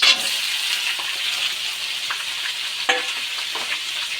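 Boiled beans, carrots and other vegetables fry in a small amount of hot ghee, giving a steady close sizzle with scattered stirring scrapes and a sharper clink partway through.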